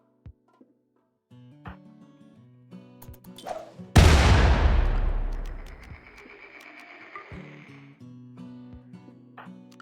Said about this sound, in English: Huck your EMP grenade in the middle of that group